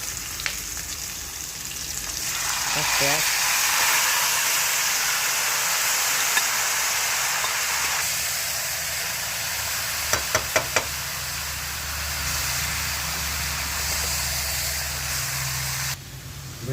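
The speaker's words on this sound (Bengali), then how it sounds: "সেই মাংসগুলো এবার এই তেলে ভেজে নেওয়া হবে" Marinated meat for homemade biryani frying in hot oil gives a steady, loud sizzle and hiss throughout, with a few knocks of a utensil against the pot and no talking.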